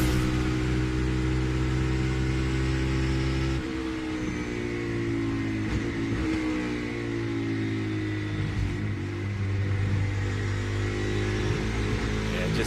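Onboard race car engine at Watkins Glen struggling to refire, a rough droning hum with shifting low tones that stutter and fall away, steady and close throughout.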